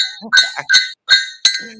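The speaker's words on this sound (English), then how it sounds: "silver bars, clinking them?" Heavy silver bars are knocked together by hand, giving four or five bright, ringing metallic clinks in quick succession, each with a short resonant tail, close and loud.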